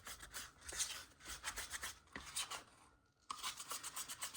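Epoxy resin being stirred with a little added colour, a close scraping, rubbing rhythm of a stick against the mixing cup that runs steadily, pauses briefly, then resumes.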